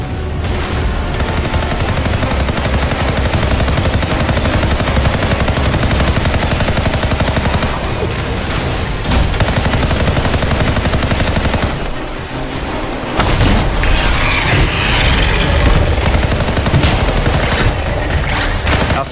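Sustained gunfire and explosions rage while players fight the Swarm Tyrant in Anthem. A dense, loud barrage of rapid shots and booms continues without pause, swelling further near the end.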